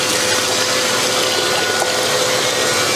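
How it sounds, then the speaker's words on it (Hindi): Spiced water filling the bowl of a small automatic pani puri machine, a steady loud rushing, gushing wash of liquid that goes on without a break and without talk. "ये बाउल के अंदर हम पानी फिलअप करेंगे"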